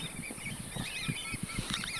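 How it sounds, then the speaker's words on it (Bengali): A large flock of ducks honks continuously, many overlapping calls blending into a busy, steady chorus at moderate distance with no talking. "এই হাঁসগুলোর নাম কি আসলে আমি জানি না।"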